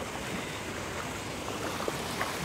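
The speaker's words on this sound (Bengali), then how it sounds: "জল এসে গিয়েছে, আমরা জলের মধ্যে ছপাং ছপাং ছপাং ছপাং করতে করতে যাচ্ছি।" Sea water washes and splashes along the shore at Majorda beach in South Goa, a continuous moderate surf wash with occasional soft splashes and no talk.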